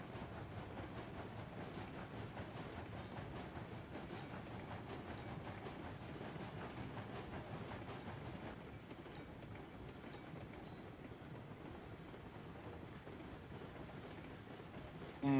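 A train runs along the rails with a continuous rumbling roll and faint rhythmic clatter, fairly quiet and steady throughout, with a brief louder bump right at the end.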